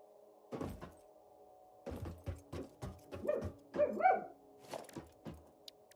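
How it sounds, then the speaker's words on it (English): A dog barks in a series of short, sharp bursts, a couple at first and then a cluster of quicker yips and barks, moderately close indoors with no talking over them. "Can you stop barking at whatever you're barking at?"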